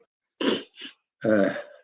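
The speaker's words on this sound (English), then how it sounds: "I'm going to be starting sneezing" A single close, forceful sneeze, with a sharp intake of breath and then a loud burst, in an otherwise quiet room.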